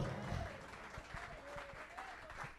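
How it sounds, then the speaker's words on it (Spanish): Applause from a church congregation during a Spanish-language worship service. It is moderately loud and steady across the whole stretch, with a few low thumps and some faint voices mixed into the clapping. "Denle un aplauso al Señor."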